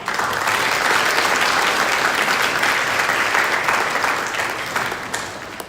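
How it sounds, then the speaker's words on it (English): A gala audience gives a warm welcoming applause, a broad continuous crackle of many hands at steady volume that tapers off slightly near the end. "Please join us in welcoming them with a warm round of applause once again."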